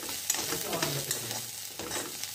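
Poha being stirred and fried in a pan, with a steady close sizzle and spoon scraping and shuffling through the flakes, no one speaking.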